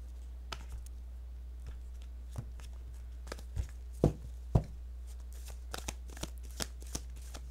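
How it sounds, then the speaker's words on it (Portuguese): Tarot cards are shuffled by hand in a quiet room, giving scattered crisp riffles and soft snapping clicks, with a few louder slaps near the middle, over a low steady hum. "Vou nem embaralhar muito, não, porque eu já embaralhei muito antes."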